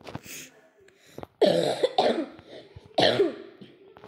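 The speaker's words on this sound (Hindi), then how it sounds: "सॉरी मेरा गला ख़राब है तो इसलिए खांसी हो रही है" Several harsh, close coughs from a person with a sore throat, in quick bursts, three main fits with short pauses between, plus a few softer throat sounds.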